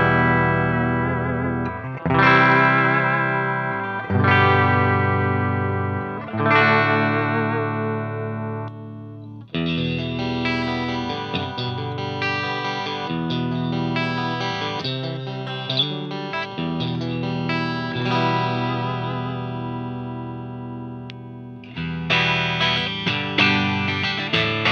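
Clean electric guitar through a Soldano SLO-30 amplifier on the normal channel with the bright switch off, playing ringing chords and then busier picked passages with sustained notes, loud and alone with no talk.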